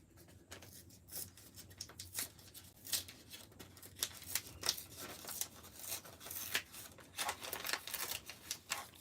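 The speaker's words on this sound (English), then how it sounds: "So I am going to open up the other side of this envelope" Paper envelope being opened and folded, with a run of sharp crinkles, rustles and crisp snaps close by, irregular and fairly quiet, no talking.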